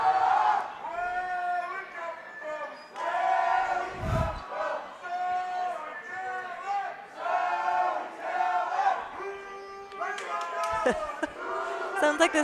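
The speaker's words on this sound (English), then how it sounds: "the crowd is enjoying cheering on the Australian side" Spectators at the 2018 women's world dodgeball championship between Australia and Canada chant and cheer in rising, repeating waves, a loud rhythmic crowd chorus that keeps circling, with a few sharp claps and shouts near the end.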